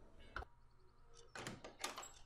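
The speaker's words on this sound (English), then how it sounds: "I was awoken by the noise of the door opening." A door opens in the video game Everlasting Summer with a soft knock followed by a couple of rustling, sliding creaks and scrapes, close and moderately quiet against a low ambient hum.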